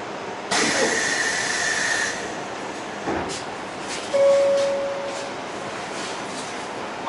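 Kyoto Municipal Subway 20 series train with Mitsubishi SiC traction equipment running between stations, a steady broadband rumble and rush of wheels and air with faint tonal motor whine rising and falling, no speech.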